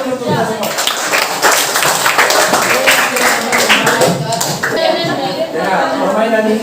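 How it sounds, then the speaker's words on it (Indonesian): A school class breaks into a burst of brisk, scattered hand clapping that is mixed with chatter and voices throughout. "Tepuk tangan dulu untuk kita semua."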